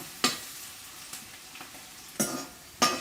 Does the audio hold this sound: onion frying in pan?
yes